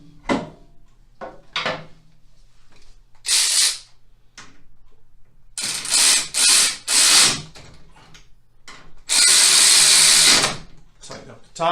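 A ratchet runs bolts down on a Harley-Davidson motorcycle while a rake kit is installed, with bursts of rapid close clicking and long stretches of ratcheting, mixed with clanks and handling noises.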